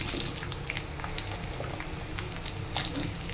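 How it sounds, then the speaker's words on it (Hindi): Chopped onions frying in a pan while a Pahadi gethi vegetable dish is cooked, a steady broad sizzle and crackle with no voices. "और अब मैं अपना डालूँगी अपने कटे हुए प्याज"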